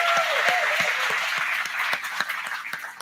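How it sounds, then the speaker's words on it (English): A crowd aboard the Majestic Princess cruise ship applauds the crew with steady, dense clapping and sharp individual claps. The applause fades slightly toward the end and no one speaks over it. "So give a round of applause for the crew."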